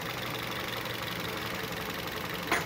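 A 2016 Toyota Vios engine idling with a misfire gives a steady, close mechanical hum with faint uneven knocking underneath and a brief click near the end.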